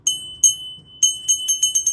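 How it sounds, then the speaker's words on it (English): A crystal bell made in West Germany ringing at close range: bright, clear glassy strikes, two isolated rings followed by a quicker run of about six rhythmic chimes, each with a sustained high tone. "And this crystal bell is made in Western Germany."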